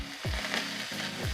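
Chilli garlic paste sizzling in hot oil in a wok: a soft, steady frying hiss with faint stirring scrapes, quiet and close, with no talk.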